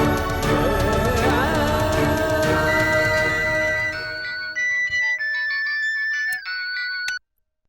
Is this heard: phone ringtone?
yes